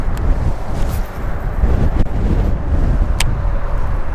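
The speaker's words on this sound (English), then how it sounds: "it is windy." Strong wind during bank fishing buffets the microphone, producing a loud, continuous low rumble with a few sharp gusts and clicks.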